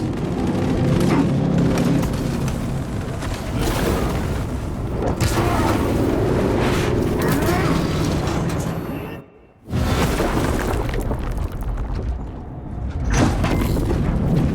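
Spaceship engines roar through a battle scene in Warhammer 40,000: Space Marine 2, a dense continuous rumble with booms and gunfire, a brief near-silent drop midway before the loud roar resumes.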